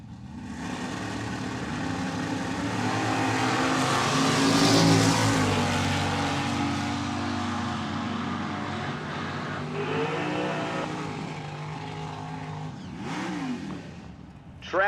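Drag race launch between a red-over-black Chevrolet Malibu and a white Gen 2 Camaro at a live pro eliminations event, engines roaring loud and sustained as the cars accelerate away, with rising and falling tones near the end.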